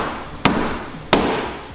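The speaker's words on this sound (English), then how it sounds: "Richard took the hammer and finished the job." Two sharp, loud hammer blows strike metal about a second apart while finishing a repair on a road car fitted with Formula 1 tyres, each hit ringing briefly before fading.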